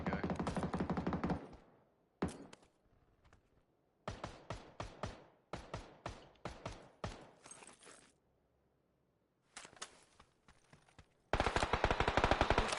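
Bursts of rapid Tommy gun fire from the video game PUBG ring out, with several separate volleys and single shots broken by short silences, loud and close, ending in a dense final burst.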